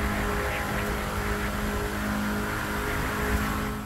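A sustained engine drone from a car in The Crew 2, a tuned KTM Veyron, holds steady and loud for a few seconds with a constant tonal hum and no talking.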